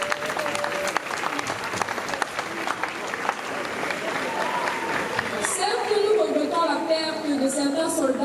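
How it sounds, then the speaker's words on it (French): Crowd applause at a ceremony, a dense field of clapping that builds and grows louder toward the end as cheering voices rise above it, with someone speaking at the start. "Ils méritent assurément de grandes acclamations."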